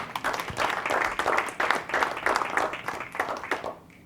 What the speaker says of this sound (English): a round of applause for Bevan Lucas for stopping by tonight